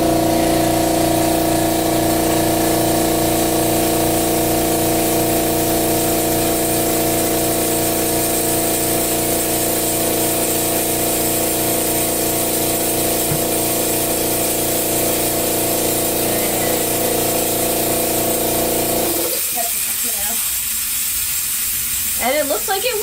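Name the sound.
airbrush compressor running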